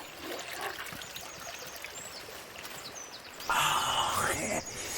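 Water poured into a cup for drinking: a short, close, splashy stream of about a second follows quieter rustling and shuffling.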